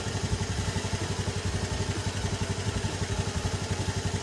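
A Honda Scoopy scooter engine idles to warm up, a close, steady rapid putter with an even pulsing rhythm and no other sounds.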